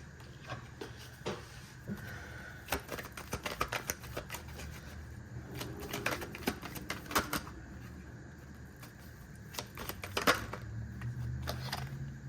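A tarot card deck is shuffled in a series of soft, irregular riffles and taps, fairly faint and close, with no talking over it.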